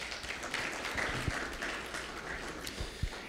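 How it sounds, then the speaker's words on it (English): Congregation applauding at a church service: soft, diffuse clapping from many hands, heard at a distance and fairly faint throughout. "That's a good spot to give the Lord a hand clap."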